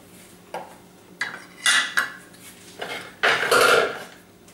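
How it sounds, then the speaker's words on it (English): A spoon scraping and clinking against a bowl while mixing meatball ingredients such as flour and herbs, several separate bursts of clatter at close range, no talk. "I'm using a spoon first to mix it in."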